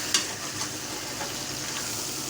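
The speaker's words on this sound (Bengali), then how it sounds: "পেঁয়াজ ভাজাটা মোটামুটি হয়ে আসছে, আর একটু ভাজা হলেই দিব" Onions frying in a pan for a taro-leaf dish give a steady, close, even sizzle with faint crackles throughout. No one speaks.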